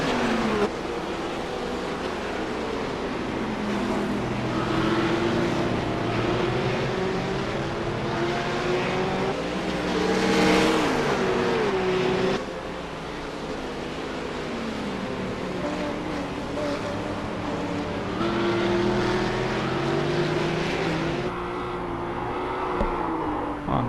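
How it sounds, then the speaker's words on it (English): A Cadillac race car accelerates down the straight at Daytona during a GT Open race, its engine droning and rising in pitch through gear changes, loud and sustained with no talk over it. "got a nice slipstream off the back of his Cadillac coming down the straight"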